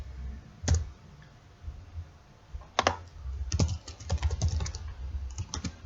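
Keys clacking on a computer keyboard: a single tap, a short burst, then steadier runs of close, crisp keystrokes with small pauses, alone without voices.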